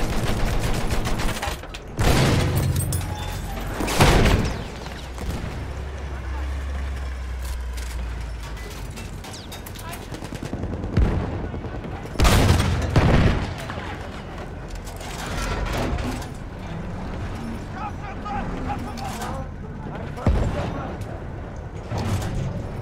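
Machine guns fire in repeated bursts across a World War I battle on the Amiens map of a video game, loud near rattles separated by quieter stretches of distant combat noise and mechanical clatter.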